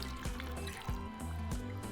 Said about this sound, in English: So cover them with water